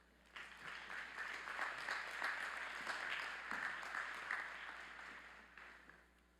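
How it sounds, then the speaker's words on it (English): A commencement audience at a university spring graduation ceremony breaks into sustained applause, a broad wash of many hands clapping at moderate distance that swells quickly and tapers off after about six seconds. "Let's give Dr. Mahoney a round of applause."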